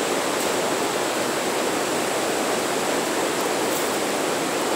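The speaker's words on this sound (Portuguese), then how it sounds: "Vamos ouvir aqui o barulho das águas, o barulho." The floodwater of the Acaraú river near Sobral rushes in a loud, constant broadband roar, steady and unbroken like a waterfall, with no voices.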